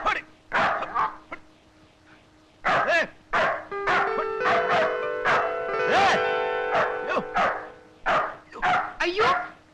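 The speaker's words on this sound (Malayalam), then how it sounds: "പട്ടി വല്ലാതെ കുറയ്ക്കുന്നുണ്ടല്ലോ." A dog barks close by in repeated sharp bursts with short gaps, some drawn into whimpering yips, while a sustained tone sounds in the background.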